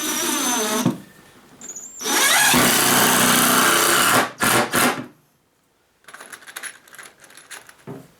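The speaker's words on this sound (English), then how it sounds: "line it up, and blast some screws through it" A power driver drives screws into a wooden sawhorse in several loud, close bursts of whirring motor, with short pauses between runs and lighter clattering toward the end.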